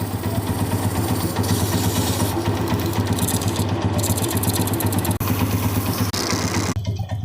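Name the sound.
motorcycle engine idling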